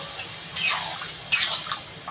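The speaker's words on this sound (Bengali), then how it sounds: "বন্ধুরা এবার লাউয়ে আমি এই যে সামান্য জল দিয়ে দেবো।" Water is poured into a pan of bottle gourd and soya chunk curry in two short splashing bursts, close and moderately loud, with no talk.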